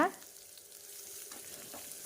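Soft, steady sizzling of chopped onion frying in oil, with a faint stir near the start and no talking.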